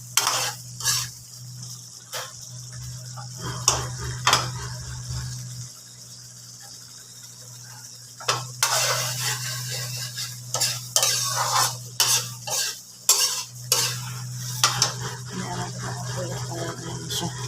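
Squid adobo simmering in coconut milk in a pot, stirred with a utensil: repeated scraping and clinking strokes in irregular bursts over a low bubbling sizzle, close up.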